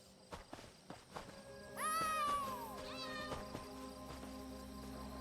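Winks the cat in Elder Scrolls Online lets out a clear, rising meow, then a second shorter one, over a steady game ambience with soft footsteps earlier on.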